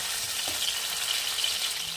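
Steady hiss of potato and green banana pieces frying in hot oil, a continuous close sizzle with no voices.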